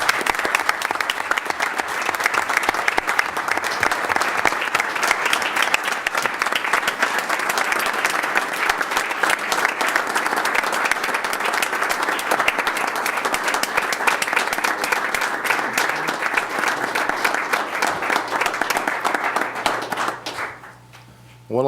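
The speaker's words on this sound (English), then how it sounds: "Let's give these fine folks a round of applause" A long round of applause at a city council meeting, with the whole room clapping steadily and loudly for about twenty seconds before it stops abruptly.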